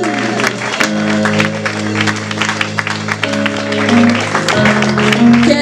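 A church congregation claps and cheers during worship, steady dense applause over sustained organ-like musical tones, loud and close throughout.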